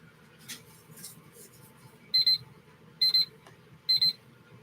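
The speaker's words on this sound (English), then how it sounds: "that was my hour timer" An hour timer alarm rings in three short bursts of rapid double beeps about a second apart, loud and close over faint background noise.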